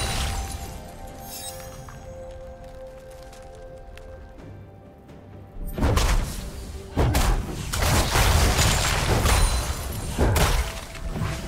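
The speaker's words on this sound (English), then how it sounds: "Turret has been destroyed." A turret is destroyed in a League of Legends match, with a quieter stretch of game noise giving way to a loud burst of crumbling, thudding impacts that repeat in heavy bursts until the end.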